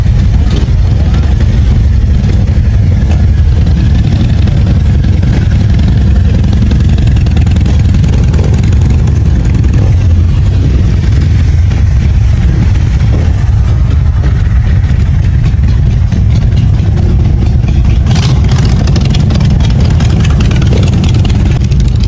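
Motorcycles ride through a crowded street in the town centre of Dinant, Belgium, with loud continuous engine rumble and idling close by over a busy background of crowd noise.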